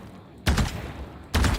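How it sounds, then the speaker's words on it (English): Two short bursts of gunfire from a rifle in the shooter game Valorant, one loud blast then a second about a second later, each sharp and cracking with a short tail, over a low steady background hum. "When you get 2 bullets like this is called bursting"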